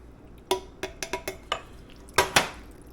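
A spoon clinks and knocks against a pot in a quick, uneven series of sharp taps as diced tomatoes and tomato paste are stirred into a spaghetti sauce, close and fairly quiet between hits.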